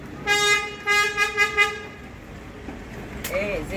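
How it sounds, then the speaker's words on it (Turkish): A car horn toots in a Zeytinburnu street, three or four short honks in a quick rhythm, moderately close, followed by a faint tonal sound and street noise. "korna da olur arkadaşlar"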